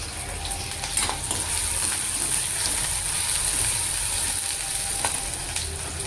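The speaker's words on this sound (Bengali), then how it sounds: "তেলটা গরম হয়ে গেলে পেঁয়াজ লঙ্কাটা ভালো করে ভেজে নিতে হবে।" Onion and green chilli fry in hot oil in a wok, giving a steady, close sizzle with a few faint stirring clinks and no voices.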